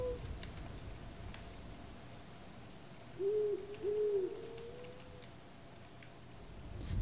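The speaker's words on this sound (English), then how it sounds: "And the return of the crickets." Crickets chirp in a steady, fast pulsing trill throughout the scene in the strategy game SpellForce, a continuous ambient loop with a brief low tone rising midway.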